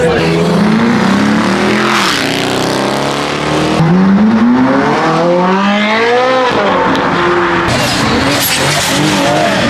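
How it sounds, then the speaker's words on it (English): Dodge Mopar cars do burnouts at a car meet, with loud engine roars rising and falling and tires squealing in long sweeping bursts, close by and continuous, under crowd voices. "Every single Mopar is doing burnouts."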